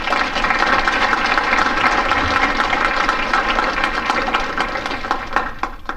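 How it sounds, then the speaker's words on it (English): An audience at an event honoring the Tuskegee Airmen applauds, a dense, steady wash of clapping that holds loud and even throughout with no voices on top. "And I'd like to give them another round of applause"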